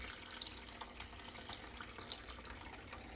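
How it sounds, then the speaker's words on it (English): Hot water is poured around a soil pod in a Planters Choice herb garden, giving a faint, continuous trickling splash with a steady hiss of flowing water and no talk. "take the hot water and pour it around"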